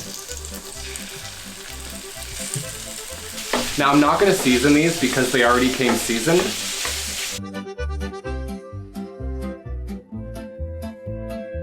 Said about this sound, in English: So let's take our meatballs. Oh yeah, hear that sizzle?